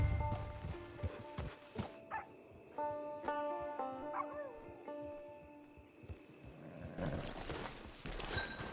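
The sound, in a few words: horse hooves clip-clopping in the Red Dead Online video game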